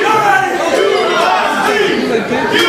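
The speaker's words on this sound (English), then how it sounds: "The crowd is not happy." Wrestling crowd at a Royal Ramble event voicing displeasure, a dense continuous roar of many voices with shouts rising and falling, loud and sustained throughout.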